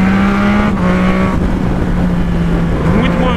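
A Yamaha MT-09 motorcycle accelerating hard in traffic, its engine holding a loud, steady buzzing drone with pitch shifts as it climbs through gears, recorded close with wind noise and no speech.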